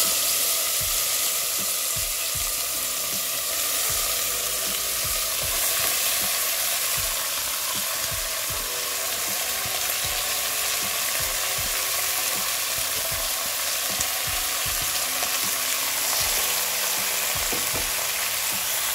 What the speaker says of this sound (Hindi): मटन को हम कुकर में डालेंगे और अच्छे से एक बार हिला देंगे